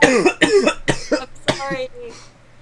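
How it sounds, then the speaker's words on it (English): A child coughs hard several times in quick succession while choking on a peanut, harsh close bursts that taper into a few weaker, strained coughs and a throaty rasp at the end. "I was coughing on my peanut because of that"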